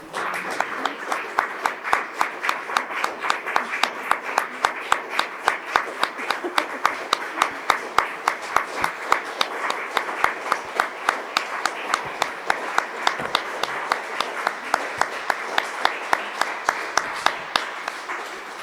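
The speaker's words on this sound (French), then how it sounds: "j'ai envie de vous remercier beaucoup pour cette soirée et applaudir Aurélie, bien sûr." An audience at a talk on Belgian theatre applauds at length, with dense clapping settling into a rhythmic, synchronized beat that holds steady and fairly loud throughout.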